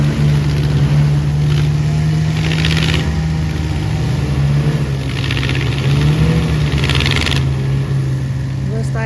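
A motorboat engine drones steadily on Lake Kissimmee, a low continuous hum that swells slightly as it passes, heard beside a nearby idling engine and wind noise.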